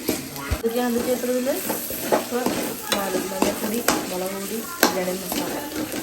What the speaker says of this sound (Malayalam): ഉള്ളി പച്ചമുളക് കറിവേപ്പില ഇഞ്ചി വെളുത്തുള്ളി പേസ്റ്റ് എല്ലാം കൂടെ വതക്കി നല്ല മൂപ്പിച്ചിട്ടുണ്ട്